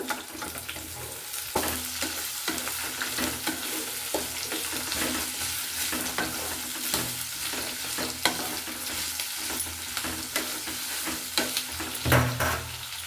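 Chopped capsicum frying and sizzling in a pan with spices for traditional idli sambar, with steady close crackle and occasional stirring scrapes throughout, no voices.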